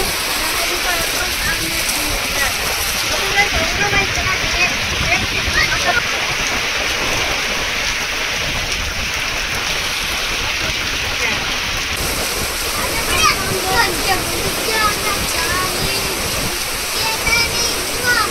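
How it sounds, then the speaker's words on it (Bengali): Heavy rain driven by strong wind, a loud, steady, dense roar of water pouring down without pause for the whole stretch, with no voices over it. "বৃষ্টির সাথে কিন্তু হাওয়াটাও কিন্তু প্রচুর জোরে হচ্ছে।"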